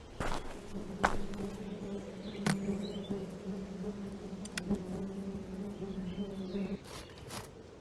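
Bees buzzing in the video game Nobodies: Silent Blood, a steady droning hum that runs throughout, broken by a few sharp clicks and thuds.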